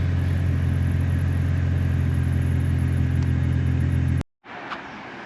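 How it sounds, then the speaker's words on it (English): A K-swapped Honda Civic EM1 idles with a steady low rumble and even hum for about four seconds, then cuts off abruptly and leaves a faint, quieter background. "and now it seems to idle just fine."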